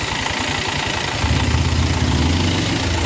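A motorcycle engine runs close by with a low, chugging idle pulse that thickens and grows slightly louder partway through, steady and alone with no talking.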